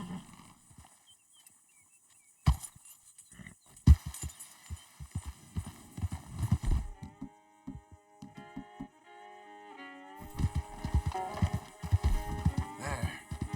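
A horse in the video game Red Dead Redemption 2 clops along in uneven hoof beats, intermittent and fairly close, mixed with sustained game music tones and a few sharper knocks.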